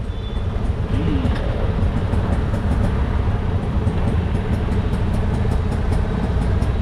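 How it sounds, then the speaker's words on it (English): Heavy street traffic in Chennai, India: a dense continuous roar of engines and road noise with faint horn-like tones and rattling throughout, no speech. "A lot of heavy traffic today."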